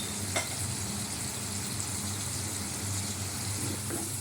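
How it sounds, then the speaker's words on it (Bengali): Paneer is lightly sautéed in a pan, a soft, even sizzle running throughout over a constant low hum, with a couple of faint utensil taps. "এই পনিরটাকে ভাজবো না, একটু সাঁতলে নিলাম"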